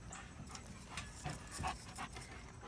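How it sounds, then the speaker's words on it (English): Big Dog, a large pet dog, panting indoors in soft, rhythmic breaths, moderately close and fairly quiet, with faint background noise and no talking. "I've got Big Dog coming in here behind me if you see him."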